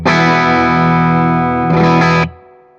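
Electric guitar through a Mesa/Boogie California Tweed 6V6 4:Forty head in 40 watt mode rings out as a loud sustained chord, then a fresh strum before the sound cuts off and decays, with no talking.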